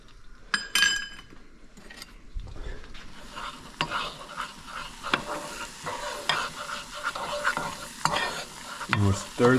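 Butter and flour are stirred together over low heat for a soup, with close, irregular scraping and clinking of a utensil against the pot over a soft sizzle, loudest near the end.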